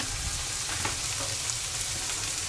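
Bagnet, crispy Filipino pork, sautés in a pan for mung bean stew, giving a steady close sizzle with faint spoon-stirring scrapes and no voices.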